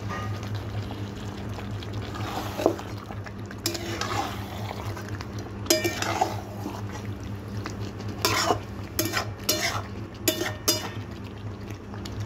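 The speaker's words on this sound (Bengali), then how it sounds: "একটু নাড়াবো, তারপর আবার ঢাকা দেবো, একটু নাড়িয়ে নিই।" Homemade Indian-style chicken curry stirred in a pot, with scraping and clinking of a spoon against metal over a steady background hum, in intermittent bursts of stirring.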